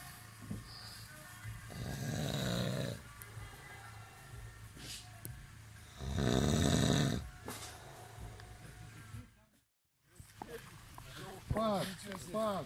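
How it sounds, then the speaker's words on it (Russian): A person snoring nearby in a quiet room, with a few loud, drawn-out snores rising and falling in separate bursts, and a low steady hum underneath. "храпит-то"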